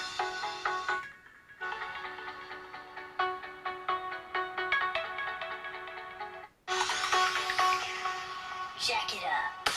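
Ringtone melody played through the speaker of an Oppo Reno 5 Pro 5G phone, a bright repeating electronic tune with a short drop-out partway, fairly close and moderately loud, without speech over it.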